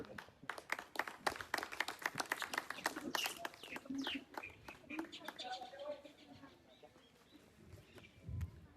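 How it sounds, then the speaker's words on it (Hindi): An audience at a community welcoming ceremony claps loudly in a brisk, rhythmic burst for several seconds. The clapping then fades as a voice carries on over a quieter hall. "जोरदार तालियां बजाओ"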